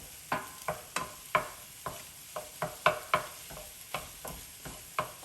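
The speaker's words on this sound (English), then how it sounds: "So now we're gonna add in our cream cheese. And you're gonna wanna stir this." A spoon works cream cheese into chicken enchilada filling in a pan, giving about a dozen soft scraping strokes in a steady, unhurried rhythm, close and fairly quiet with no one speaking.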